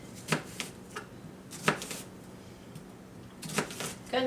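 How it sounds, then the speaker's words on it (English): A knife slices through an onion on a cutting board in a kitchen, making a few crisp, close chopping strokes spaced irregularly with quiet gaps between them. "Cutting on my onion. I'm just slicing it."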